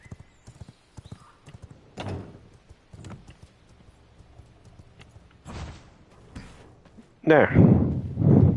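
Horse hooves clip-clopping in the video game V Rising, a quiet steady trot punctuated by a few louder thuds and a burst of whinnying near the end, with a brief spoken word.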